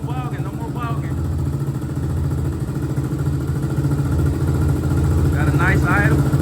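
A 2001 Honda TRX400 ATV engine idles steadily up close, a low, even, throbbing putter that holds throughout, with someone talking over it at the start and end.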